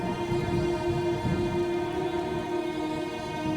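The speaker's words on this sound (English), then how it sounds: "Nice filter already with the rain and stuff." Rainfall hiss beneath a steady musical drone, continuous and fairly even throughout.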